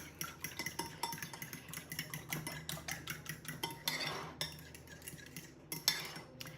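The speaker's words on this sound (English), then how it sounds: "Mix that together." Cake batter with vanilla and baking soda being mixed in a bowl, quiet rhythmic scraping and clinking of a utensil against the dish, continuous and close, with no talking.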